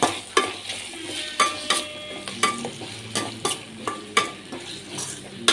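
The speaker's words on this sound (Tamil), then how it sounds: "நெக்ஸ்ட் வந்து இதை நல்லா மிக்ஸ் பண்ணி விடுங்க" Chicken fried rice with tomato ketchup is stirred in a pan, a spatula scraping and clinking against the metal in a steady rhythm of repeated strokes over a light sizzle, close and clear with no voices.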